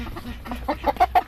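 A rooster among newly arrived chickens gives a quick run of short clucks that grow louder and closer toward the end, with quiet surroundings between the calls.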